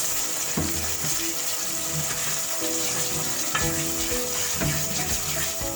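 Tomato puree sautés in a pan in a home kitchen, giving a continuous close sizzle broken by repeated scraping and stirring strokes of a utensil, with no talking.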